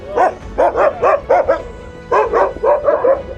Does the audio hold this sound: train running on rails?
no